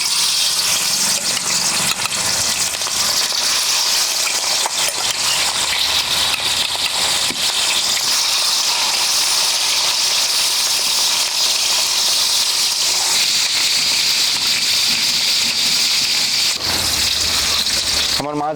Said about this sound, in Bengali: তেল গরম হয়ে গেছে, এবার মাছটাকে আমি হালকা করে ভেজে নেব।